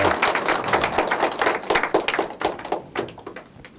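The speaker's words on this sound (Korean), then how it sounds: "큰 박수를 한번 부탁드립니다" An audience giving a big round of applause at a Korean lecture, clapping hands close and fairly loud, a brisk dense patter that softens and thins toward the end.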